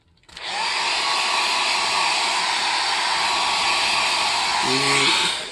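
A hair dryer switches on and blows with a steady, loud whooshing hum close by, drying washed hair after a hair transplant; a brief voice is heard near the end.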